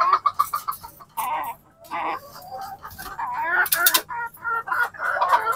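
Desi chickens on a poultry farm cluck in short, close, repeated bursts. Someone talks over and between the calls.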